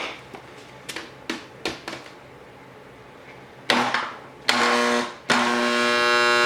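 A blender-type machine grinds cork pieces, starting with a few short clattering bursts and then roaring into loud sustained whirring runs, the blades chopping and jamming on the cork.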